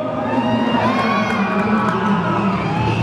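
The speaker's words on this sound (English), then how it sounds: "So put those hands together, scream in your neighbor's ear, because here comes Aaron Twight." Indoor crowd at the 2014 International Motorcycle Show in Chicago cheering and screaming, a dense continuous roar of many voices with whoops, loud and unbroken.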